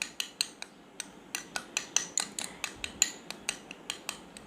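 A spoon clinks and scrapes against a bowl while stirring a homemade white face cream, making a steady run of about twenty sharp, fairly quiet taps in a regular rhythm, with no voices.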